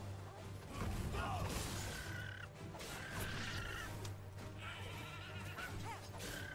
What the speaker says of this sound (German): Ist okay, Leute, sind wilde Schokobos.